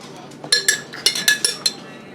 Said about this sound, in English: let Mommy get a spoon and see if we can scoop out some more of the jar